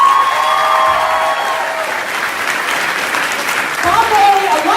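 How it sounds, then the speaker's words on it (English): A convention panel audience applauds in a loud, dense wave of clapping and cheering with voices mixed in, fading slightly midway before swelling again. "let's give a round of applause"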